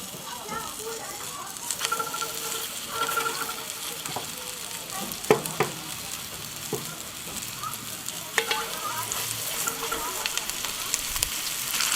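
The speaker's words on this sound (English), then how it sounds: "So now we're going to take our veal cheeks and give them a bit of a sear." Veal cheeks searing in olive oil in a hot Dutch oven give a steady, close sizzle and crackle for the whole stretch, with a few sharper pops and clinks of handling.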